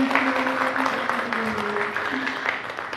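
A TV studio audience on a talk show claps in a dense, sustained burst of applause for a singer, with tonal music playing underneath.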